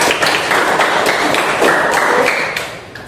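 Students in a classroom clap their hands together in a dense, lively round of applause lasting a few seconds, then taper off toward the end.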